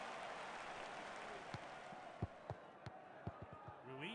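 Football stadium crowd at a Napoli versus Galatasaray match, a steady broad roar of spectators with scattered thuds and claps rising out of it, heard from a distance.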